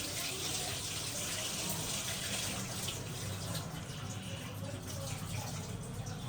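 Water poured steadily onto sabudana (sago) in a bowl to wash and soak it, a continuous close splashing gush that fills the whole stretch.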